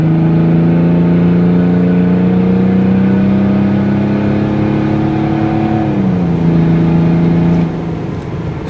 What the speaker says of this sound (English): I've slowed down a little bit on the highway to kind of show you what the transmission shifts like with the tune